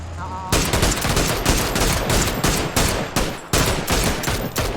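Loud bursts of rapid automatic gunfire in a shooter game, arriving in repeated sharp volleys with brief gaps between them after a quiet opening moment.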